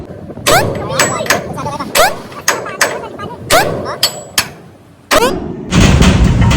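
Hammer blows on metal while cutting something loose with acetylene, a series of loud sharp clanging strikes in irregular rhythm, close by, with people talking and a rougher noise burst at the end.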